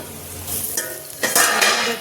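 Bitter gourd fries in hot oil, a close crackling sizzle that swells louder as it is stirred, with a brief utensil scrape.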